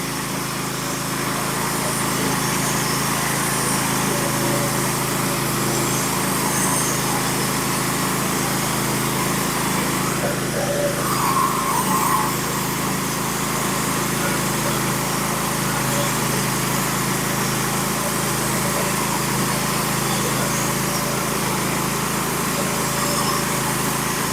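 Norwood HD36v2 sawmill running steadily while cutting 5/4 black oak floor boards, a continuous high-pitched engine drone with saw whine, loud and close throughout with no clear pauses.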